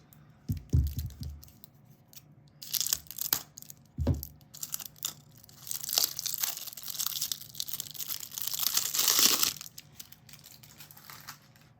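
Plastic packaging of a clear glitter pot being cut and torn open with scissors, with crinkling, snipping and tearing bursts building to a loud rustle near the end, close up and without talk.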